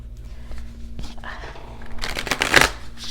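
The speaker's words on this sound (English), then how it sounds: "These big cards sometimes, they're just so hard to shuffle." Large tarot cards shuffle close up, soft riffling and slides that build into a dense, loud flutter near the end, with a quiet voice murmuring underneath.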